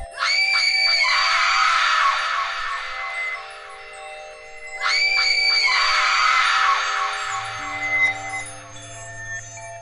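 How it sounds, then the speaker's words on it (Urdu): A talking tree in a children's fairy tale screams loudly, two long harsh shrieking bursts with a pause between them, followed by a steady low hum; no talking. "اور اس کے بعد درخت زور زور سے چیخنے لگا۔"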